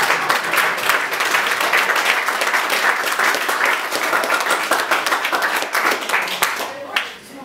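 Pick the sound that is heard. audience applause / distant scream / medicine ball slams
audience applause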